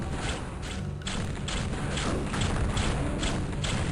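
Repeated wand projectile shots from the Demoness's first weapon in Hexen 2: Portal of Praevus, a steady run of dull thumping impacts over continuous game noise, with no talking.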